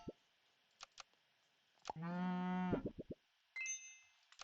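A cartoonish cow moo from an auto-battler video game sounds once for under a second amid short plops, clicks and dings of game effects, clean and close, with no talking.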